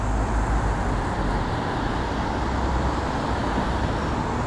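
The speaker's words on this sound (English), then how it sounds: "now we got a line of cars coming this way." A line of cars passing along a city street at night makes a steady, continuous traffic roar. The broadband rumble holds constant throughout with no distinct individual pass-bys and no talk.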